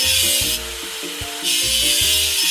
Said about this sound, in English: Let's get rid of the machine's rust.